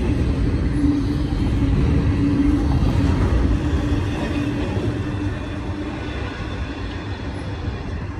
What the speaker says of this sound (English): they're letting a train go through at 10 miles an hour